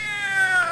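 A cat's drawn-out meow, loud and close, a single sustained whining cry lasting under a second with no talk over it.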